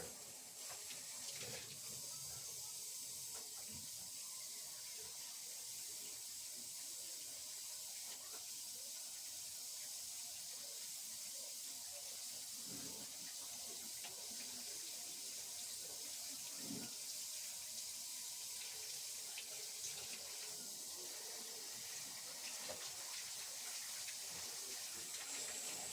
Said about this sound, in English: let's get you some fresh, high quality Pennsylvania Monongahela Valley spring water